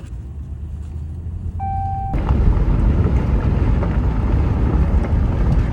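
A truck drives down a road by a prairie remnant in Oklahoma, giving a steady, loud rumble of engine and road noise. The rumble swells and stays dense after a brief tone, and no one talks.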